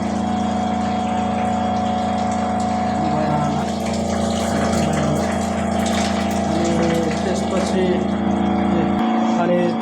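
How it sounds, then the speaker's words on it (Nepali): A pump in a hotel effluent treatment plant sucks up wastewater, droning with a steady close mechanical hum and rushing water until it cuts off near the end. "फोहोर पानीहरू यो पम्पले सक्सन गरेर माथिको क्लोरोसिङ ट्याङ्कमा हाल्छ"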